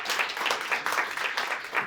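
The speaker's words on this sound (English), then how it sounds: "Let's give it a round of applause again" Brief applause from a conference audience for a medical panel discussion, a moderate, evenly textured patter of clapping with no voices on top.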